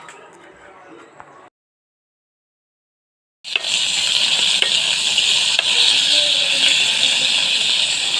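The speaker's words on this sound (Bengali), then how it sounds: "এই রকম করে মাছগুলোকে ভেজে নেব" Hilsa fish frying in hot oil, a loud steady hiss and crackle that starts abruptly after a short quiet room tone and a gap of silence.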